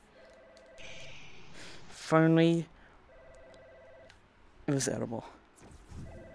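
Telephone ringing in the Budget Cuts VR game, two short bursts of ringing a couple of seconds apart, moderately loud over a quiet electronic hum, with a person talking around them.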